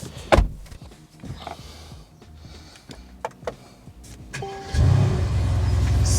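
Mercedes GLC 63 AMG turning over after a few clicks and thumps, the engine catching and settling into a loud, steady rumbling idle close by.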